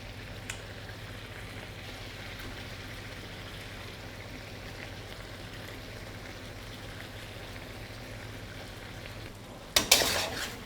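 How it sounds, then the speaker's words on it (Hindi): Meat and tomatoes frying in a pot for a Shinwari dumba karahi, a steady even sizzle throughout, with a louder clatter of stirring near the end. "इसको हम थोड़ा सा गोश्त के साथ भून लेंगे ताकि टमाटर से छिलका इजीली रिमूव हो जाए"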